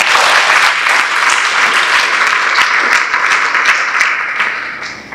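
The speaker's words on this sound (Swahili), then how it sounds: "Mgeni maalum, naomba kwanza tumpigie makofi na tuwapigie makofi wote" An audience at a formal ceremony applauds a special guest, a bishop and a choir in loud, continuous clapping that holds steady before tapering off toward the end.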